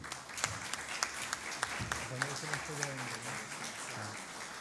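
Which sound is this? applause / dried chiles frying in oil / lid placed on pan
applause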